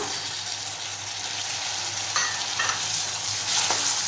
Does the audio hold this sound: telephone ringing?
no